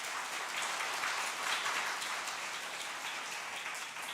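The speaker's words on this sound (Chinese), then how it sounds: "耀中弟兄的小孩子，我们掌声来欢迎他。" A church congregation applauds in welcome of a small child, a soft, distant, continuous patter of clapping with no voices over it.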